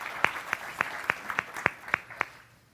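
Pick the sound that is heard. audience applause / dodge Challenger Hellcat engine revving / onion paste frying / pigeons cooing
audience applause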